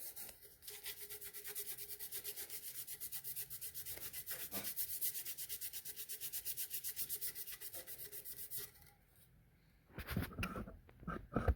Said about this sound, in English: I just sand those down.